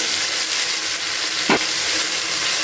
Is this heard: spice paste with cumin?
yes